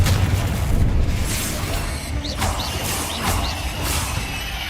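A Confringo fire spell blasting in the game Hogwarts Legacy, a dense, loud rumbling boom that rolls and crackles continuously with a few faint whistling tones on top.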